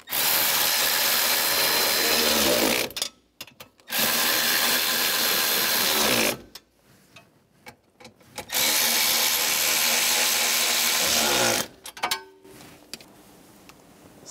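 A power tool drives screws into a 1999-2006 Chevrolet Silverado 1500 steering column, whirring loudly in three bursts of a few seconds each, separated by quiet gaps with small clicks and handling noises.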